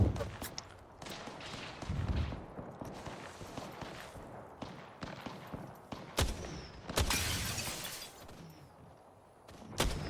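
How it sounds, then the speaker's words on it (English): Heavy gunfire in an Apex Legends battle royale match, with bursts of shots and sharp cracks including loud sniper rifle blasts, close and punchy over a busy combat din, no talk. "That's quite a sniper rifle up there."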